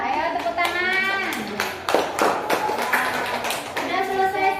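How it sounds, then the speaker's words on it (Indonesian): A burst of clapping from children in a classroom, several hands slapping together unevenly amid overlapping young voices and chatter. "ayo tepuk tangan"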